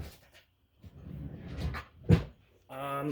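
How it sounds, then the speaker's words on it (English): A drawer is pushed shut with one short, solid knock midway, after soft handling noises; a voice follows briefly at the end. "We'll just tuck that away into the drawer."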